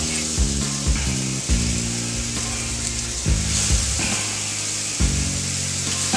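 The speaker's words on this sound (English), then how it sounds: "Sizzle as soon as you put it on." Loud continuous sizzling of hamburgers on a hot Steelmade flat top griddle, with occasional scraping knocks from a utensil over the steady hiss.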